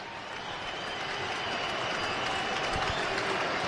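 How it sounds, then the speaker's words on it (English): A huge crowd at Yankee Stadium in the Bronx roars during a Red Sox–Yankees wild card playoff game, a dense, sustained wall of cheering and clapping that swells steadily louder. "This huge crowd here in the Bronx ready to go nuts"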